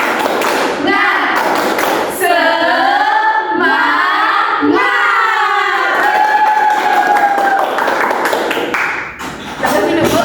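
A school class chanting together in a rhythmic clapping cheer, voices loud and continuous with claps mixed into the chant throughout.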